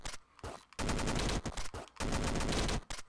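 Rapid bursts of gunfire from the gunboots in the video game Downwell: several dense volleys of shots, one after another, with short gaps between them and no talking.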